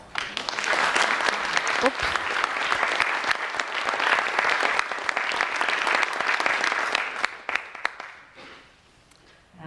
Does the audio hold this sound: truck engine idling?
no